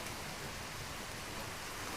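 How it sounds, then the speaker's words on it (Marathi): Heavy rain falling outdoors, heard as a steady, dense broadband hiss that stays even and fairly loud throughout with no voices. "पाऊस येत आहे पावसाचा भरपूर असा आवाज सगळ्या मध्ये येणार आहे"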